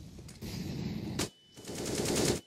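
Gunfire in the video game Counter-Strike during an SK Gaming vs FaZe Clan match at the ELEAGUE Major 2018: a loud automatic burst, a short gap, then another sustained burst of rapid shots.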